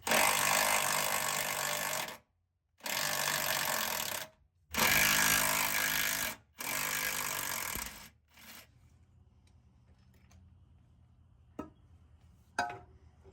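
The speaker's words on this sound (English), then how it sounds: "now we're going to remove our sway bar with our 10 mil" An impact or power tool works on a truck's sway bar with a 10 mm fitting, firing in four loud, harsh rattling bursts of about two seconds each with short gaps, then fading to quiet with a few faint clicks.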